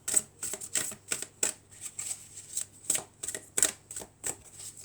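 Oracle cards being drawn and handled from a deck: a quick series of soft, crisp card snaps and slides, close and fairly quiet, in a regular flicking rhythm with no voice over it.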